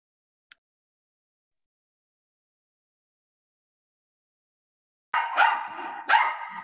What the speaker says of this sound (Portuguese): deixa eu tentar conter os cachorros aqui